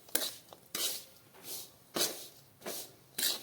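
A spoon scrapes and clatters around a pan while jaggery is stirred until it melts, in about six sharp, rhythmic strokes roughly half a second apart, close and moderately loud, with no talking.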